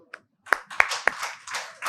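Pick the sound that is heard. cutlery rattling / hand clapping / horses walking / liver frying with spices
hand clapping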